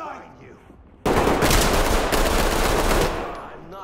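Sustained, loud automatic gunfire bursts from a tactical police shooter game during a robbery raid, starting abruptly and rattling on continuously for nearly three seconds before fading.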